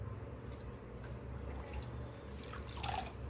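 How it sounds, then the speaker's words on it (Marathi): Water drips and trickles steadily from washed fenugreek leaves draining in a colander, soft and close, with a slightly louder splash of runoff near the end. "मेथी अशी छान पाण्यात खालीवर करून घ्यायची आहे आणि पाणी निथळत त्याला छान एका आपल्या चाळणीमध्ये काढून घ्यायचं"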